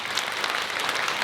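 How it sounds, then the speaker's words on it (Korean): Wedding guests applaud at a ceremony in a hotel ballroom after a congratulatory speech, a dense, steady burst of clapping with no voices over it. "큰 박수 부탁드립니다."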